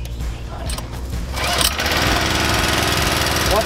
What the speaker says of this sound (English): Now that we have the motor started and everything is running